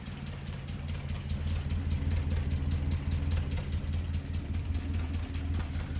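A steady, low idle from a Land Rover Series III engine with the choke off rumbles continuously, even and smooth, with a faint rattling texture on top and no voices.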